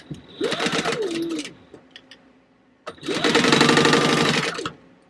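A sewing machine base-stitches a fabric gusset for a trunk at a long stitch length in two close bursts, the second longer, each a rapid rattling whir that rises and winds down, with a quiet pause between.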